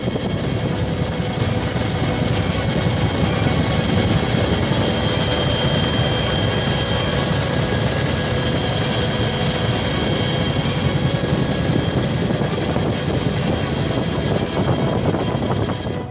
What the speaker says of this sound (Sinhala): ගුවන් හමුදාවට අයත් බෙල් 212 වර්ගයේ හෙලිකොප්ටර්